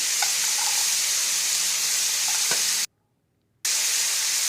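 Potato and fenugreek masala fries in a pan with a steady, close, loud sizzle and a few stirring clinks, broken by a brief drop to silence before the sizzle returns.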